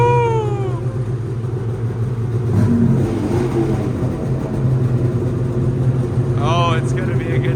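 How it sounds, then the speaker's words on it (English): A truck engine warming up on a cold morning, a low steady idle rumble with a brief rev in the middle while people talk nearby. "the trucks are warming up"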